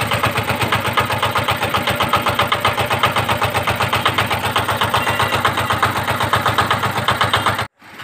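A repaired CD 180 motorcycle engine runs close by at a steady idle, loud rapid regular thumping pulses continuing for about eight seconds before stopping abruptly.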